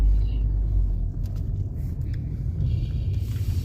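Car engine idling and rumbling low and steady while the car is turned around on a street at night, a constant close drone with faint background noise.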